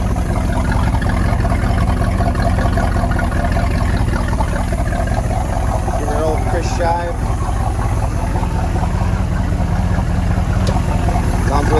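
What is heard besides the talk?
boat engine running after overhaul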